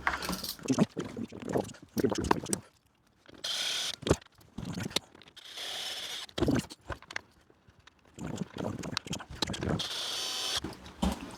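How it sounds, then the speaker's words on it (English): Screws are driven into the housing of an Erbauer EBP28 petrol leaf blower, with several short bursts of clicking, ratcheting and scraping separated by brief pauses, close up and fairly quiet. "Let's get a couple of screws in there."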